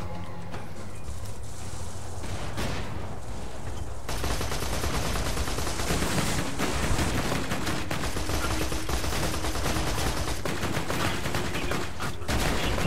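Continuous rapid gunfire from a vehicle in Borderlands 2 rattles on without pause, loud and dense, over a steady rumbling engine-like roar.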